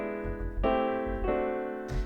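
A 1-6-2-5 jazz chord sequence from Rhythm Changes, four sustained chords changing at steady intervals, played alone with no talk over them.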